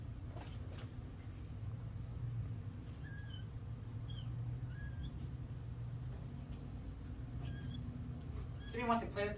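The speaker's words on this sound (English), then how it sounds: "there's gonna be a lot of cats if we're gonna let them in too" Several friendly stray cats meowing outdoors, short rising mewls repeated in bursts over a steady low background hum, with a cluster of quick meows at the end.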